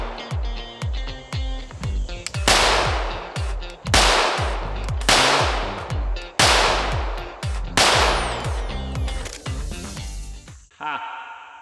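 Loud, sharp shots from a ported Glock 17 pistol with a Lone Wolf Alphawolf slide and Holosun optic fired at a paper target, a slow string of spaced reports with echoing tails at a range.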